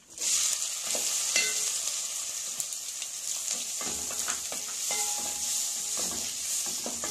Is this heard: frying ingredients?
yes